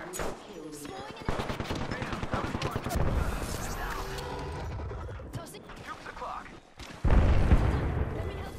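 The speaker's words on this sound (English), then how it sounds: "Opening fire." Automatic gunfire in the battle royale game Apex Legends, with bursts of rapid shots and booming impacts coming in waves over game sound and callouts, loudest near the end.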